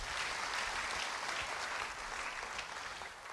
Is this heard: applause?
yes